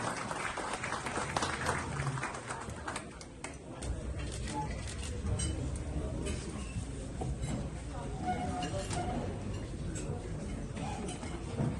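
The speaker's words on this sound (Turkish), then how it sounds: "Alkışlarınızla." Applause from a crowd at a jewellers' chamber meeting in Kilis, a steady patter of clapping lasting the whole stretch with murmuring voices underneath.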